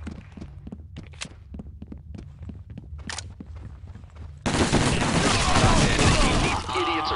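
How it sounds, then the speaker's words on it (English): Gunfire in the tactical shooter SWAT 4: scattered sharp shots and thuds in an exchange between suspects, then a sudden dense, loud burst of sustained firing that continues to the end. "These idiots are shooting each other"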